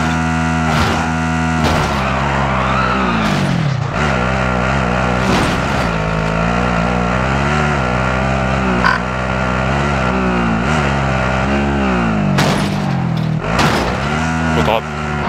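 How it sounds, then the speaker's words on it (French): A damaged car engine in an online video game drones loudly and steadily, its buzzing tone sliding up and down in pitch, while players talk over it throughout. "Voiture qui fait un bruit de mort."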